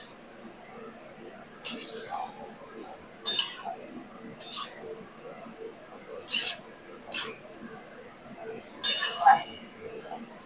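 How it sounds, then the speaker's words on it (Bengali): Fried potatoes with cabbage stirred in a pan, heard as a string of light metallic clinks and scrapes of a utensil against the cookware over a low background hiss. "আমি যে আলুটা ভেজে রেখেছিলাম সেই আলুটা এবার একটু নাড়িয়ে দেবো"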